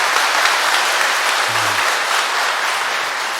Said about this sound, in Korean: 앞으로도 건강하시고 행복하시라는 의미로 다시 한번 박수 보내주시면 고맙겠습니다.